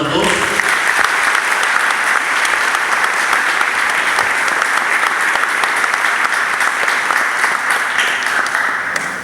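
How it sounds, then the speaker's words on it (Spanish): Sustained loud applause fills a church during a Mass installing altar servers and altar assistants, steady dense clapping from a large congregation lasting throughout, with no break or pause. "Fuerte aplauso para todos."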